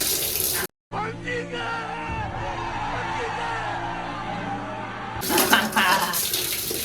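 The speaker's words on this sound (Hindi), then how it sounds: "पानी चल रहा है, चलो भाई सही है" Water runs steadily from a tap on a newly repaired pump motor, a continuous close, fairly loud rush with a brief cut near the start and a louder stretch toward the end.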